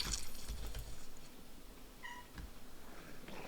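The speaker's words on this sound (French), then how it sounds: "j'ai un petit chat, peut-être vous l'aurez entendu, qui est venu dire bonjour" A small domestic cat gives a brief meow midway through, faint under steady background noise and clatter, with no talking.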